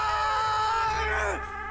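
A man in a film screams loudly after his shirt is torn, a strained sustained cry that bends downward in pitch and trails off near the end.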